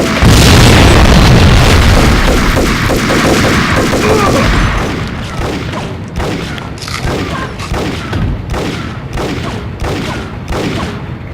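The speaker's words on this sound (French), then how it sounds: "Je sais pas où il tire le con là" Gunfire rings out in the video game Max Payne: a loud, dense barrage of shots and booms, then a run of evenly spaced, sharp bursts that repeat steadily to the end.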